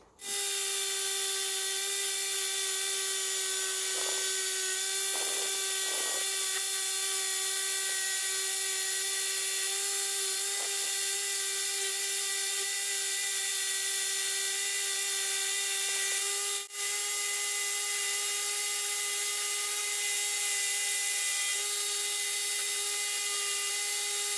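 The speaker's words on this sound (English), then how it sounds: "I've taken the jigsaw and clamped it in the vise" A jigsaw clamped upside down in a vise cutting plywood for an end-grain standing desk gives a loud, steady high-pitched buzzing whine that runs continuously, with brief dips as the blade bites into the wood.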